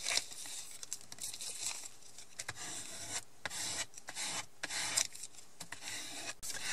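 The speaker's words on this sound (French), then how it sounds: "Je prends ma petite raclette et je viens bien appuyer partout" A small squeegee is pressed and dragged over a plastic sleeve on a Christmas-decorated craft box, making close, continuous rubbing and crinkling rasps in short repeated strokes with brief pauses.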